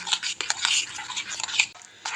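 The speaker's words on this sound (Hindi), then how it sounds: "ऐसे आप इसको मिक्स कर लेंगे अच्छे तरीके से।" A spoon stirs gobi 65 cauliflower batter mixed with rice powder in a bowl, giving close, continuous scraping and soft wet clatter with a brief pause near the end.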